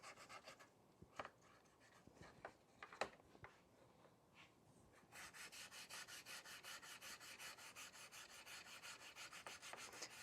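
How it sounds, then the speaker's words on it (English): Quiet rubbing and scraping strokes, irregular at first, then settling into a fast, steady back-and-forth rhythm of wet sanding on interior car plastic, close and faint. "So wet sanding just kind of gives it that nice smooth finish."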